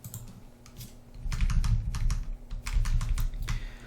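Quick clicking taps at a computer during an online tabletop miniatures game tournament, a sparse then busier run of sharp clicks over a low background hum.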